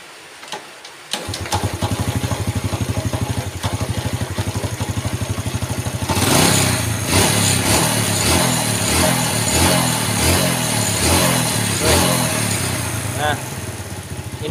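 A Yamaha Vega ZR motorcycle engine, hard-starting and prone to stalling, cranks and catches, then runs loudly with an uneven, sputtering idle and occasional revs, close by.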